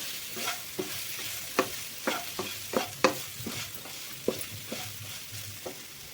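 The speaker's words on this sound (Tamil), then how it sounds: "சிம்மில் வச்சுட்டு மசால் தூள் போட்டுட்டு கலந்து விட்டுக்கோங்க." Chicken pepper fry being stirred with masala powder in a pan on low heat, with a spoon scraping in irregular, fairly close strokes over a soft steady sizzle.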